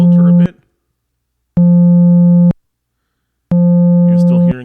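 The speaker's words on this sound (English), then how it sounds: "Going to use the square wave because I want to mess with pulse width later." Square-wave tone from a Nord Micro Modular synthesizer with the filter opened, played as three sustained buzzy notes of about a second each, separated by silence, while someone speaks briefly at the start and end.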